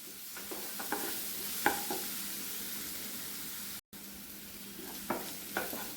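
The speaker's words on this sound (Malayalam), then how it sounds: "ഒന്ന് ഇളക്കി കൊടുത്തോണ്ടിരിക്കണം." Elephant foot yam and red cowpea mezhukkupuratti fries in coconut oil over a medium flame, giving a steady close sizzle broken by a few sharp spatula scrapes while it is stirred in the pan.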